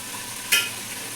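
Chicken being stir-fried with Kashmiri chilli in a pan for homemade biryani, a soft steady sizzle with one brief scraping stir in the middle.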